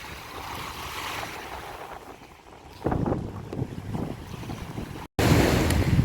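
Sea waves wash onto a beach in Durrës, Albania, on a September afternoon, a steady broad rush with wind buffeting the microphone and a louder surge near the end.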